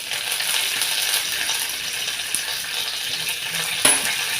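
Mustard seeds, chopped chillies and curry leaves fry in a pan on low heat, giving a steady crackling sizzle throughout with a small clink near the end.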